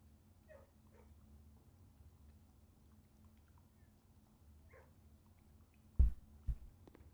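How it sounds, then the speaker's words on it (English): Dogs in the video game Blue Prince are heard muffled through walls: faint whimpers and yips scattered over a low hum, then two sharp louder thumps near the end. "I love the way you can hear the dogs through the walls as well."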